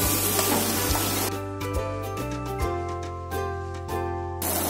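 Chopped onion fries in oil in a pan for a Kerala chicken curry, a steady close hissing sizzle that dips briefly in the middle under a few tonal hums, then returns at full strength.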